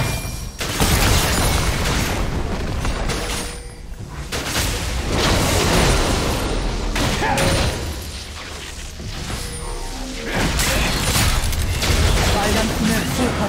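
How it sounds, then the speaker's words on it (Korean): A turret being destroyed during a League of Legends match, Jayce top against Irelia: booming, rumbling destruction bursts and mechanical crashes in repeated loud waves, layered over game effects and an announcer voice. "빨간 팀의 포탑이 파괴되었습니다."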